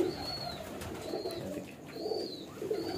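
Teddy pigeons cooing nearby in low, repeated throaty calls, with a few thin higher chirps over a steady background murmur.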